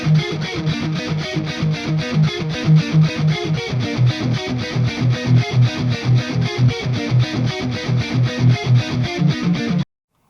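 Distorted electric guitar on the neck pickup plays high in a metal style, a steady run of rapid picked notes with chorus-like effects, loud and alone for about ten seconds before stopping abruptly.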